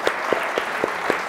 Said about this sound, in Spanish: un aplauso por Iván